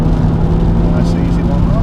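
Car engine droning steadily while driving on a Scottish road, a low constant hum with a steady tone, shifting up into fourth gear; a voice talks over it.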